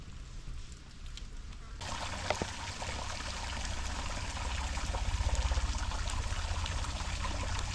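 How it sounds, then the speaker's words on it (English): A small forest creek in the Watagan mountains trickles and babbles steadily, a constant soft wash of running water that grows fuller after the first couple of seconds, with no voices over it. "as you can see there's a creek there"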